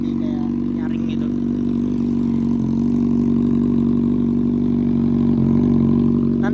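A motorcycle engine runs through a small-outlet exhaust with a narrow inlet, giving a sharp, shrill note; a steady close, loud drone holds throughout as someone talks over it.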